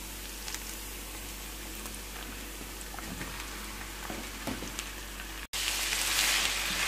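Minced meat for moussaka sizzling in a frying pan, a steady crackling patter close by with scattered pops, swelling to a louder hiss after a brief cut near the end.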